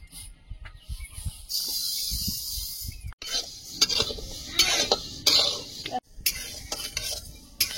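Moong dal dry-roasting in a kadai with no oil, stirred by a metal spoon, giving repeated scraping and clinking strokes over a soft rustling sizzle, close and moderately loud, no speech.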